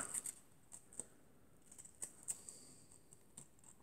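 Scissors snip off the overhanging paper edges of a holiday diorama in quick, faint clicks spread across a quiet table-top scene, with no talking.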